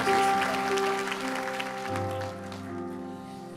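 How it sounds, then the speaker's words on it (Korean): Church congregation at a Sunday worship service applauding to welcome a guest speaker, the clapping loudest at first and thinning out under sustained keyboard-like musical tones. "모두 교수님 이 자리에 나올 때 큰 박수로 환영해 주시길 부탁드리겠습니다"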